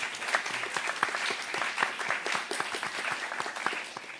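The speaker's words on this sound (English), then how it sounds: "Again, if you want, you can clap." Audience applauding at the close of a panel discussion on journalism studies and AI, steady clapping from a modest crowd in a room, with no talking over it.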